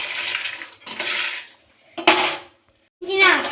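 Peanuts being roasted in a pan, clattering and rattling in short bursts with metallic scrapes and pauses between, close up.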